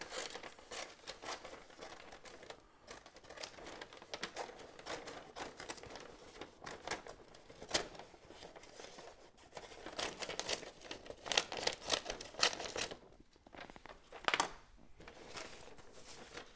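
Freezer paper being cut and handled to line a big block soap mold, giving close, irregular crinkling and tearing rustles in uneven bursts with short pauses, no speech.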